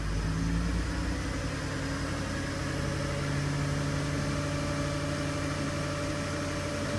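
A Mk5 VW Golf R32 with a VR6 engine and a newly replaced timing chain idles steadily through a cam adjustment test, with the brake and accelerator held together. A constant close engine hum with low harmonic tones, no voices.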